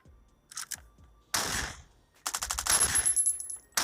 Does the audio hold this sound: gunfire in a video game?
yes